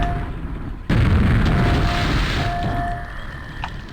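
A video game grenade goes off in a sudden loud boom, followed by a rumbling, crackling blast that slowly fades over a few seconds, with no voices.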